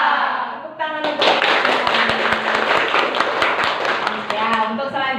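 A classroom of vocational high school students claps in a burst of quick, close applause that lasts several seconds, while voices carry on underneath.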